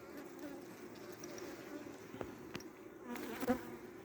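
Honey bees buzz around a multi-storey beehive during a nectar flow, a faint continuous hum with a few louder close fly-bys and quiet voices in the background.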